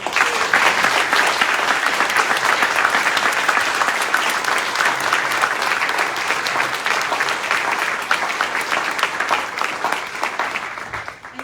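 Sustained, dense audience applause fills a sheriff swearing-in ceremony, loud and steady for about eleven seconds before tapering slightly at the end.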